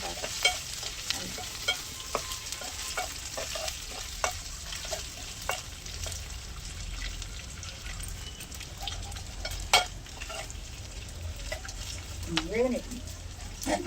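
Onion pieces frying in oil for a gongura (sorrel leaf) curry make a steady close sizzle, with repeated scraping stirs and clicks; a voice speaks briefly near the end.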